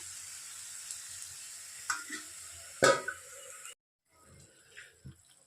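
Ridge gourd frying in a pan gives a faint steady sizzle, a couple of clatters and a louder knock as the lid goes on, then a hush and muffled bubbling under the cover.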